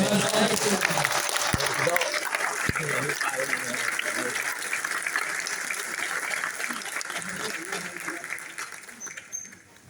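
A crowd at a World No Tobacco Day event in Delhi gives Manoj Tiwari a standing ovation, dense, steady applause filling the whole stretch and fading at the end, with voices mixed in.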